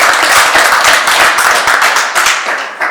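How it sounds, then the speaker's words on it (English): A post-fight press conference audience applauds the new unified 140-pound boxing world champion with dense, sustained clapping from a crowd nearby, fading slightly at the end. "a round of applause for the new unified World"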